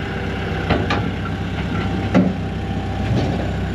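A road cleaning machine's engine runs nearby, a steady idling rumble with a few soft knocks and clanks over it.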